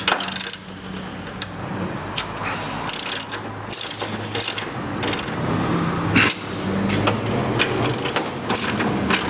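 Ratchet tightening the headlight screws on a 1993 Honda Civic: repeated close clicking pawl strokes in uneven bursts, with metallic taps and small handling noises throughout.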